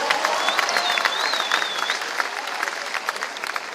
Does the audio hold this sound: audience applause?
yes